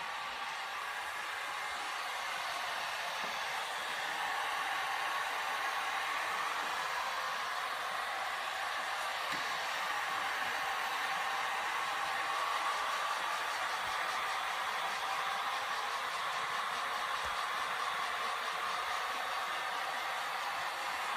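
A hair dryer blows steadily to dry a paint layer on a mirror, a constant airy whoosh that swells slightly after a few seconds and runs on alone at moderate level.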